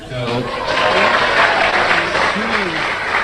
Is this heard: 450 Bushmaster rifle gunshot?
no